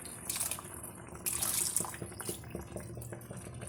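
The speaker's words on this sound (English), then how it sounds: "Here I'll add a little bit more water" Water splashes and trickles into a pan of cooking matar paneer with light clinks, moderately close and soft, no voices.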